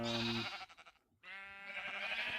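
A sheep bleats in the Minecraft video game, two short synthetic bleats separated by a brief silence, clear and close with no voices.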